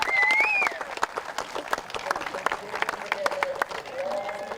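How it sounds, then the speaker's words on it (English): Audience applause at a rowing regatta medal ceremony for the Maadi Cup, a steady wash of clapping from a crowd, with a voice speaking over it near the start and end. "So let's give them one more round of applause."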